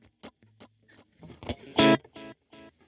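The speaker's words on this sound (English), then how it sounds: "Next, chorus echo." Guitar or instrument signal run through the chorus echo patch of a Zoom Studio 1204 effects unit, giving a series of short, processed, distorted bursts with one louder swell near the middle, each trailing off into repeats.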